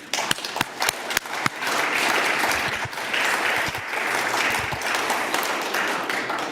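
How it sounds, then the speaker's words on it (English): An audience at a Berlin launch evening for a medical commission applauds steadily, a few separate sharp claps at first swelling into sustained, even applause that carries on throughout. "They all deserve also, I think, an applause."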